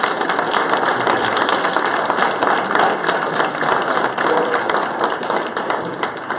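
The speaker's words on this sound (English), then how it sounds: "Big round of applause for you" An audience at a tech meetup at Capital Factory in Austin applauds, a dense, steady wash of clapping that holds at even loudness from start to end.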